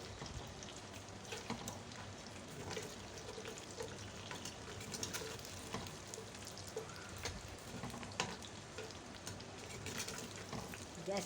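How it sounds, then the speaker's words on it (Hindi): Onions frying in the oil left over from frying arbi (taro root), a steady soft sizzle and crackle that carries on without a break, quiet and close, with no talking over it. "अब जिस ऑयल में मैंने ये अरबी को फ्राई किया है, इसी ऑयल में मैं अपनी प्याज को"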